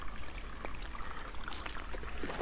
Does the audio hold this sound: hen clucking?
no